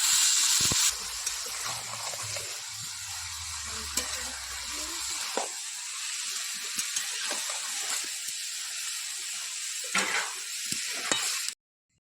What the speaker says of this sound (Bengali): এবার ভালো করে এবার নাড়াচাড়া করবো যাতে পুরো গায়ে গায়ে মশলাটা পুরো লেগে যায়